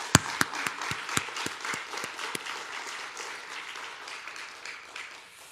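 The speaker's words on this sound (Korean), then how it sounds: "우리 하나님께 영광의 박수 한번 올릴까요?" A church congregation at a New Year's Eve worship service claps, a few sharp, distinct hand claps at first, then a softer, sustained wash of applause that gradually fades.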